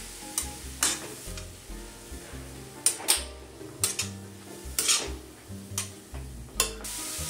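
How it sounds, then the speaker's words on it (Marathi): Carrots sautéing in ghee for carrot halva sizzle steadily while a spatula scrapes and knocks against the pan in irregular, close clinks and strokes. "गाजर पण आपल्याला छान तुपामध्ये परतून घ्यायचे"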